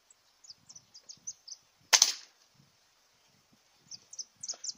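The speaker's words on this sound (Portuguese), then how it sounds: "Quando estabilizar, eu faço o disparo." Single sharp crack of a Rossi Black Hawk 5.5 air rifle fitted with a 75 kg gas ram spring, fired outdoors with a quick decaying tail, while birds chirp steadily in the background before and after.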